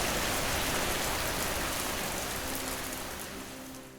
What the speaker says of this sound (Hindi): उनके गांव में बहुत ही तेज मूसलाधार बारिश हो रही है